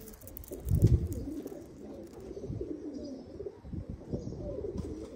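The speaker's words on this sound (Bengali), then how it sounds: "এই হচ্ছে আরো এক পেয়ার কবুতর" A pair of teddy pigeons coo softly at close range, low murmuring calls rising and falling in a quiet room with faint rustling.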